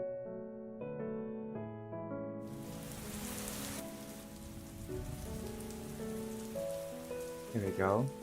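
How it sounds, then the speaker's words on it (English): Recorded rain and water ambience played as a study backdrop, a steady dense patter of rain on a surface that fades in after soft music tones and continues alone at moderate loudness. "I like to put on some rain sounds as well"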